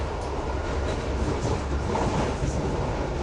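A passenger train in The Last Express rolls along with a continuous low rumble and soft rhythmic wheel clatter, steady and fairly loud with no talk over it.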